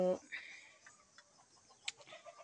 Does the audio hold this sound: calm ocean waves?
no